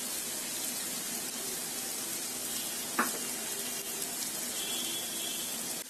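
Chopped ginger, garlic and onion fry in a pan for spaghetti sauce, giving a steady, even sizzle with a single brief scrape partway through.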